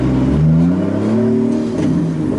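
A Nissan 240SX drift car with a swapped 2JZ engine revs loudly on the street, its engine note rising and falling in a throaty close-up roar.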